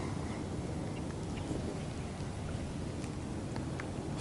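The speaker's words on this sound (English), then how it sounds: "Starting to rain now." Light rain begins falling outdoors at a fishing spot by the water, a soft, faint, continuous patter with scattered small drop ticks and a low rumble beneath, no voices present.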